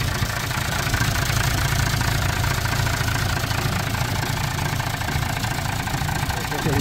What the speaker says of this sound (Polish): Silnik ładnie pracuje.